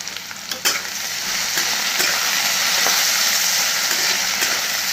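Sliced onions frying in a pan at home, a loud steady sizzle with soft stirring scrapes and clinks running throughout, close and without talk.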